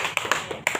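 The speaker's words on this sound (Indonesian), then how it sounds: "Tepuk tangan untuk kakak" Brief clapping from a small community audience at a waste-management meeting in RT 10, Penfui Timur: a handful of separate hand claps, close and moderately loud, lasting under a second.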